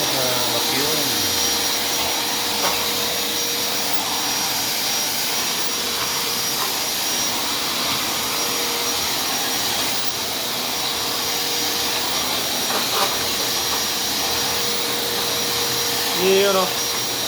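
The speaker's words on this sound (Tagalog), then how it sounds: "Kaya yung ganda yung vacuum na to, hindi gaano maingay." A Black & Decker vacuum cleaner runs continuously in a gym with a steady, airy whine and hum. Faint voices and small bumps occur over it.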